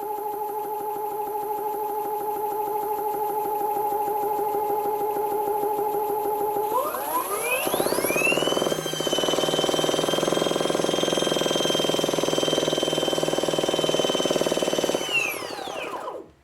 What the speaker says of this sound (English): let's start the motor. And we have our idle here.